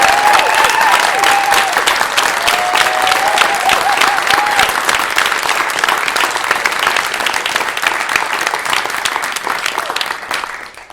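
Sustained applause from a crowd, dense clapping at steady volume, with a few cheers or a voice briefly rising early on, tapering slightly at the end.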